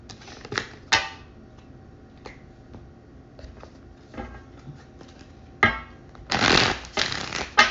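Oracle cards being shuffled nearby in quick bursts: a few sharp riffles and snaps, scattered light taps, then a longer run of brisk flicking toward the end.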